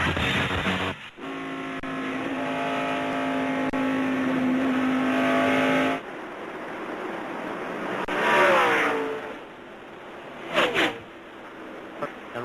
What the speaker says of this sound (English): now the 97 car right now is a little bit faster than the 12, but the fastest car of all might be Nemechek